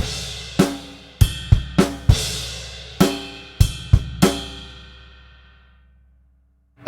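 A drum kit plays a two-bar groove as a Grade 4 rock drum exercise: about nine sharp, close hits in a syncopated pattern with ringing cymbal decay, then a long fade to near silence.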